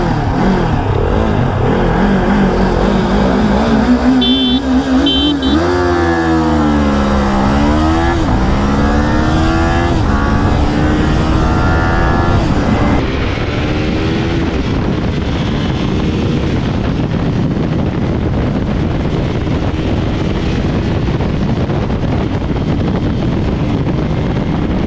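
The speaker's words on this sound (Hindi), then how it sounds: "कस्टम बिल्ड मोटरसाइकिल इतना ज़बरदस्त भाग रही है" A Kawasaki Ninja 500 and a custom-built 400cc motorcycle drag race, with loud, sustained engine roar and rising, falling revs through the gears, heavy wind buffeting throughout.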